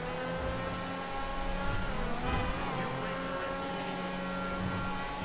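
In GTA 5, the Lampadati Tigon supercar's engine holds a sustained high, buzzing wail that rises and dips slightly as it runs, loud and close throughout, with no voices.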